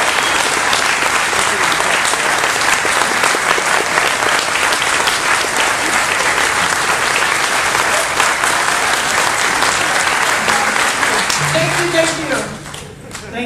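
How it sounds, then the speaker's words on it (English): Loud, sustained applause from an audience at a JoCo Cruise 2017 performance, a thick continuous wash of clapping that holds steady, then thins out near the end as a voice and a few tones come through. "Clapping"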